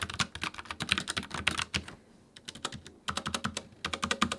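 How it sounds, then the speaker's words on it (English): Mechanical keyboard with tactile brown switches typed on in quick bursts of muffled clicks, close and clear, with a short pause midway before the keystrokes resume. "The tactile brown switches still give you that bump with every keystroke, but with a much quieter"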